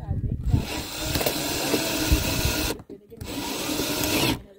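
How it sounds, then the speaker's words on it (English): A power drill whirs loudly in two sustained bursts while drilling holes for a handrail in a box van, with a brief stop between them and a pause at the end. "Drill all the holes first."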